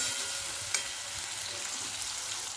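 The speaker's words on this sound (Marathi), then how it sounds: "आता हे टोमॅटो थोडंसं मऊ होईपर्यंत आपल्याला भाजून घ्यायचं आहे" Steady, fairly quiet sizzling of tomatoes frying in a pan until soft, a continuous crackling hiss with a small clink partway through.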